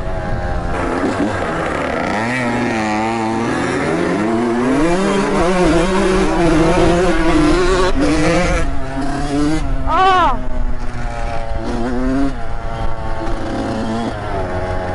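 A small dirt bike such as a KX100, CR125 or YZ125 rides a trail, its two-stroke engine loud and close, revving up and down in rising and falling pitch sweeps, with wind buffeting throughout.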